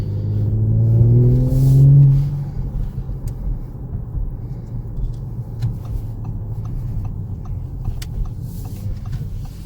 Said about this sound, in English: Got your nice little push to start engine right there.